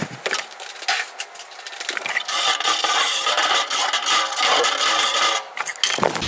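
A piece of cardboard is cut into a template shape with close, scratchy rasping strokes in an irregular rhythm, at moderate loudness and with no talking.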